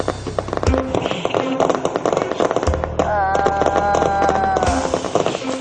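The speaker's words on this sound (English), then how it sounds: "don't freaking tell me those are fireworks" Fireworks show outside a window, a loud dense crackle of bursts and pops with low booms, continuing throughout amid a noisy backdrop with some tonal sound in the middle.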